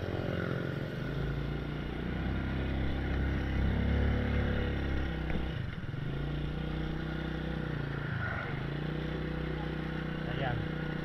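Motorcycle engine droning steadily as it is ridden up a steep hill on a rough rally-style track, the loud near hum dipping briefly twice with shifts in throttle, voices talking over it.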